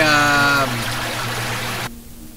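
Loud creek water flows in a steady rushing wash outdoors in a fan film, while a tonal sound fades early and the water cuts off abruptly near the end.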